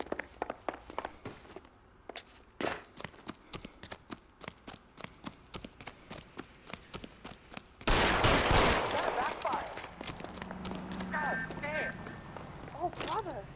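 Gunfire in the LA Noire video game: a long run of sharp cracks and footfall-like knocks, then a louder burst of shots around the midpoint followed by voices talking over the noise.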